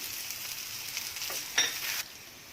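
Garlic cloves, coriander and tamarind fry in a pan, giving a soft, steady hiss that swells into a brief louder sizzle near the end.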